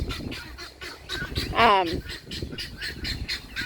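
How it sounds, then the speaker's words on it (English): Pekin ducks on a farm honk and quack loudly in a repeated, overlapping chorus, with one especially loud burst of calls in the middle, heard close by in an outdoor barnyard. "If you're a Pekin duck on our farm, now you guys are getting loud."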